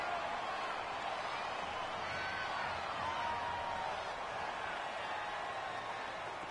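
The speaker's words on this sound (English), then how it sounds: "The crowd here in the Dome making things difficult" A steady, dense roar of a stadium crowd inside the Dome during a Madden 19 football game, continuous and fairly loud throughout with no breaks.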